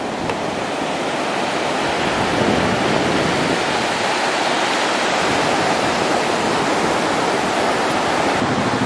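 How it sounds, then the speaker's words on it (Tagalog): Strong ocean waves break at a beach in Bali, a loud, continuous roaring wash of surf with no pauses and no talk, the roar close and steady throughout. "Lakas ng alon."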